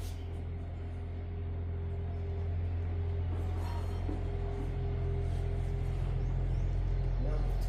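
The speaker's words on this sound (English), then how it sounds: "attempt to put it in gear" A vehicle engine idles as it is put in gear, a steady low drone with a constant hum that swells slightly louder toward the end, close by.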